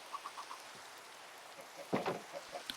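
Rain falling in the Hypermine video game, a soft steady patter with scattered light drops and a brief cluster of louder taps, fairly quiet and continuous.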